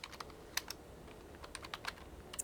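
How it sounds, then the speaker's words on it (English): Someone types on a computer keyboard in a quiet room, producing irregular, crisp key clicks with short pauses between bursts, close and fairly faint. "Oh, you're typing."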